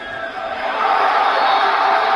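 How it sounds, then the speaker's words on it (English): Stadium crowd roar from a Madden 24 American football game, a dense, steady wash of cheering voices that swells slightly and holds loud and full throughout. "I hear the crowd noise, but I don't hear any cadence."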